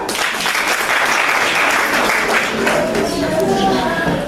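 An audience claps at an annual general meeting, a dense, close burst of hand clapping that stays loud and steady, with voices mixed in underneath.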